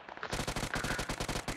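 Rapid submachine gun bursts in the battle game BGMI, loud and close, firing in a steady rattling stream after a brief quiet start.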